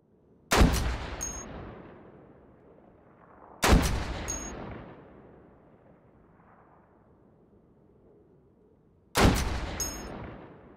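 Three loud, close gunshots in the VR shooter Hot Dogs, Horseshoes & Hand Grenades, irregularly spaced, each a sharp crack followed by a long echoing decay, with no talking.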